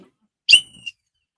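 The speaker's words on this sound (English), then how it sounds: "That means the final whistle has been spoken" A single sharp whistle blast rings out clearly against silence, then a short second chirp follows, signalling the final whistle of a Louisville college football game.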